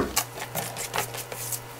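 A knife slices through a whole stalk of daepa, a large green onion, on a cutting board, making a steady run of crisp, close chopping taps about three per second.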